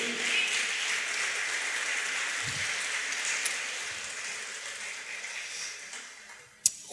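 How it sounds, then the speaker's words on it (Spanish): A church congregation applauds during a sermon, a broad, fairly soft wash of clapping that gradually fades out, ending with a sharp knock. "Aleluya, aplauda al Señor."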